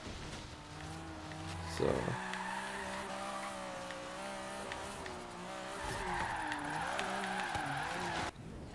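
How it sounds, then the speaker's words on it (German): Tire squeal from a car drifting in Forza Horizon 3, a sustained wavering screech over steady engine drone that swells louder in the second half, with a brief thump near the start and a voice talking over it. "Vor allem beim Driften."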